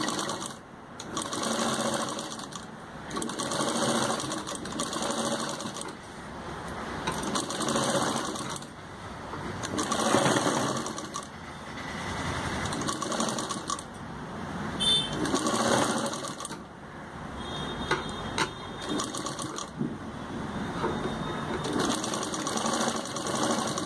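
Electric sewing machine stitching square pieces of an umbrella kameez together, running in steady bursts of rapid whirring needle clatter, close and continuous with short pauses between runs.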